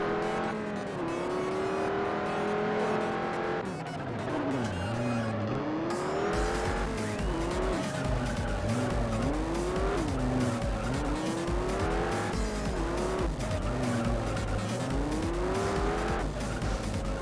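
A Viper race car in the racing game Juiced roars through repeated gear shifts, its engine note rising and dropping in sweeping curves, with persistent tire squeal and skidding through corners, loud and continuous without talk.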